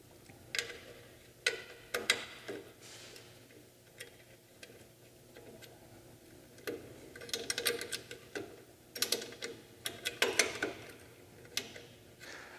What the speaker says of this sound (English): you're gonna tighten the other motor bolts